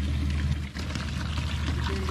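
Water pours steadily into a pool at a family park in Qatar, a continuous close rushing wash that holds almost unchanged apart from a brief dip, with no talk.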